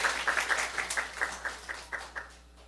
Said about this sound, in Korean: 그렇게 하실 하나님께 박수 올려드려요.